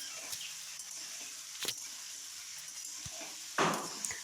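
Soybean chunks, potato and four or five pointed gourds frying together in a wok give a steady close sizzle, with a few louder crackles and clinks from stirring.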